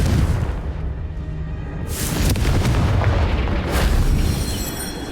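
Bombarda and Confringo spell blasts in Hogwarts Legacy on Nintendo Switch, loud booming explosions with rumbling tails, one heavy burst near two seconds and another near four, dense and close with no talking.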